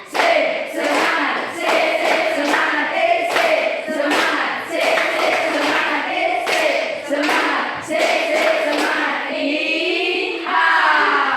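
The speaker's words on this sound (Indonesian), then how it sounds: "Tiga kali tepuk semangat" A classroom group of teachers and students clapping together in counted sets of claps, close and loud, with a teacher's voice calling out over the rhythmic bursts.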